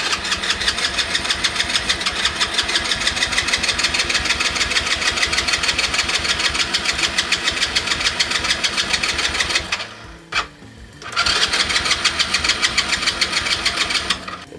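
A quad bike engine being cranked by its starter, a fast steady chugging rhythm that runs for about ten seconds, breaks off briefly, then resumes, close and loud without catching into a proper idle.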